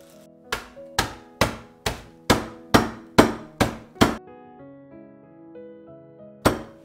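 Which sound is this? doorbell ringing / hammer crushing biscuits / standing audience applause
hammer crushing biscuits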